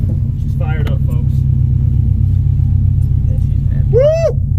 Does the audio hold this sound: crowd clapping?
no